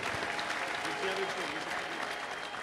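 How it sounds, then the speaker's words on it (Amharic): A church congregation breaks into steady, dense applause that fills the hall evenly for a few seconds, with voices mixed into the clapping. "ለጌታ ክብር አጨብጭቡለት እስቲ"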